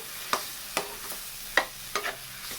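Mango chutney cooks slowly in a pan over a low flame, a soft steady sizzle broken by a handful of sharp spoon scrapes and taps as it is stirred, with no talking.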